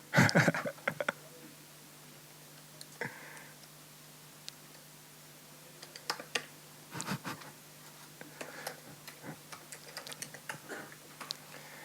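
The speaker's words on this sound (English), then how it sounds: "typing sound" Sparse, quiet clicks of keys being typed on a computer keyboard in short irregular bursts, with a faint steady hum behind.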